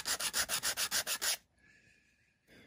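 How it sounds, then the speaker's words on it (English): Rapid back-and-forth rubbing of sandpaper glued to a paint paddle against a small hand-carved wooden star ornament, about ten quick close strokes in steady rhythm, then a pause before a brief final stroke. "This is just sandpaper glued to a paint paddle."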